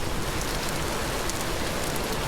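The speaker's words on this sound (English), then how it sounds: "This rain is just unbearable." Continuous rainfall in the game Vintage Story, a close, uniform wash of patter holding at the same level from start to finish, with nobody speaking.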